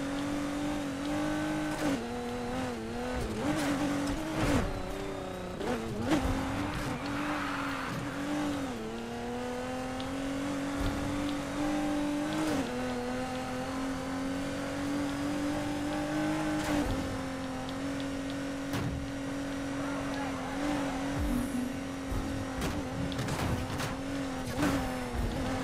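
An Aston Martin engine in Need for Speed Heat revs steadily and climbs through the gears, dipping at each slow shift and rising again, close and continuous with faint tire noise and no voices.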